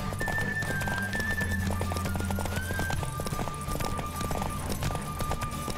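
Rapid hoofbeats of a galloping horse in The Witcher 3 pound steadily throughout, with a horse whinnying and faint background music underneath.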